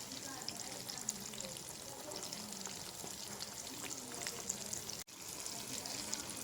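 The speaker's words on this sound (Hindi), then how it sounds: "बहुत अच्छे तरीके से फ्राई हो रहे हैं।" Vegetable shami kebabs fry in a pan with a soft, steady sizzle and faint crackles, quiet and continuous, with a brief dropout near the end.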